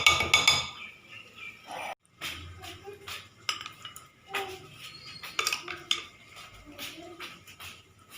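Sweet potato chaat being served, with metal cutlery clinking and scraping against a dish in a short run of light, close taps and knocks, with a quieter stretch in the middle and no talk.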